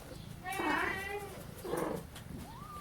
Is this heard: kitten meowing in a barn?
yes